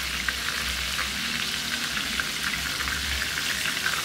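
Jamaican-style chicken pieces fry in hot oil in an open pot, a continuous close crackling sizzle with scattered sharper pops, steady and loud, with no voices.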